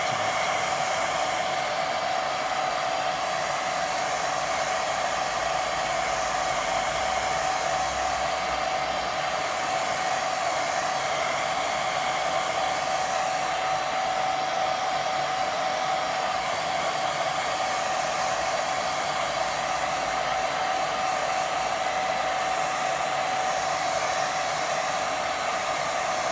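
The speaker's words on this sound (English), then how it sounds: "Let's give that another dry. Dry from a distance." A hair dryer held at a distance blows over a watercolour painting, a steady, loud, unbroken whir with a constant high whine running throughout, no voices over it.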